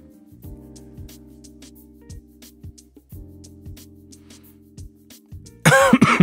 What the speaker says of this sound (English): I don't know why I'm coughing that much.